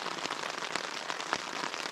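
Steady rain drumming on a tarp at a bush camp beneath a misty mountain gorge, a dense close patter with scattered louder drops, heard alone.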